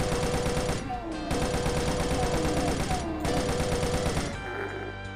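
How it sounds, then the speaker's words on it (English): Rocket launcher fire and explosions against imps in Doom II, with loud repeated bursts over dense game music and effects, broken by brief gaps, continuing for about five seconds. "before these imps come any closer, we're just gonna rocket them down"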